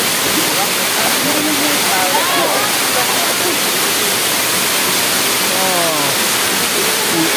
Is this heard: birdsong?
no